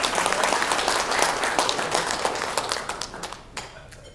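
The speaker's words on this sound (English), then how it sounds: "Supposed to applaud loud." Audience at a business talk claps loudly and densely, then the applause thins out into a few scattered claps over about four seconds.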